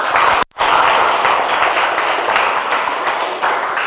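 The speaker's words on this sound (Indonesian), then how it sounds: "beri tepuk tangan untuk kelompok" A group claps together in a burst of steady applause that continues throughout, dense and fairly loud, after a brief pause at the start, in a classroom after a group presentation.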